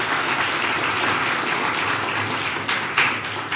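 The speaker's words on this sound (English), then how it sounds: "let's give one big extra round of applause for all of our judges here today" A large audience at the Chicago MLK Jr. oratory competition applauds the judges, dense sustained clapping that fills the room at an even level from start to finish.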